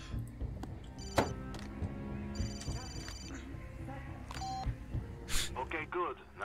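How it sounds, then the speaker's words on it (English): An in-game phone rings in Far Cry 2, bright electronic ringing tones repeating over busy game sound, with voices talking throughout. "when the phone rings, press 5 to answer it"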